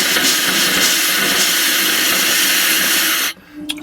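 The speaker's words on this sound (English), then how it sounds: "We're going to go ahead and blow the water out of the faucet in the bathroom." Compressed air forcing water out of a bathroom sink faucet in an RV being winterized: a loud, steady rushing hiss that runs continuously for over three seconds, then cuts off abruptly, leaving faint sputtering.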